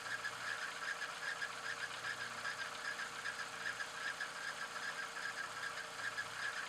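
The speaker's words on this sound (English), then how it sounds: "Start the engine." A car engine with a DIS ignition system runs steadily during secondary ignition testing. The hum is faint and even, with no voices.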